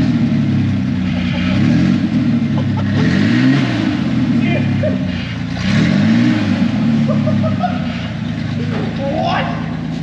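Revving of a Ford Ranger pickup engine with its muffler removed, a steady mid-low drone rising in a couple of swells, with people talking over it throughout.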